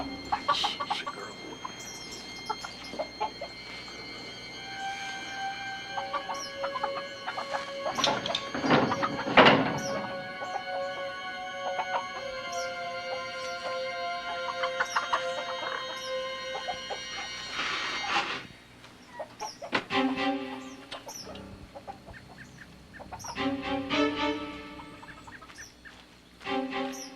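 Hens cluck and squawk near a chicken coop, a run of scattered, overlapping calls at moderate distance, with quieter gaps between busier bursts.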